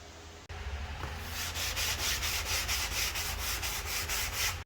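Rhythmic sanding on a wood floor inside a short bus, a close, gritty rasp pulsing back and forth in regular strokes after a short pause.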